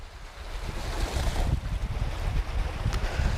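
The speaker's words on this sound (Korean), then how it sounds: "파도 소리 들리시나요?" Steady rushing surf from the Caspian Sea at Bandar Anzali, Iran, with low, churning wash and gusts of wind, close and fairly loud, no voices.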